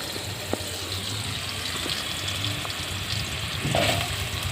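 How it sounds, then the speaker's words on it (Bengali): Potato pieces fry in hot oil with cumin seeds, a steady soft sizzle with occasional stirring clinks, moderately close and uninterrupted by speech. "প্রথমে জিরে দিয়ে আলুগুলো দিয়ে দিচ্ছি। আলুগুলো ভেজে নেব।"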